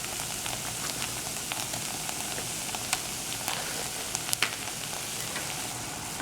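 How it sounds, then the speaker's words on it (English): Butter melting and sizzling in a pot for mac and cheese, a soft continuous crackle with scattered small pops and light stirring clicks, quiet and with no talk. "Stir this around, let the butter get nicely melted."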